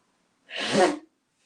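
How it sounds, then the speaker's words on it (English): One loud, forceful nasal blow, a rough burst of air lasting about half a second, close up and then silence. "Excuse me, blowing my nose."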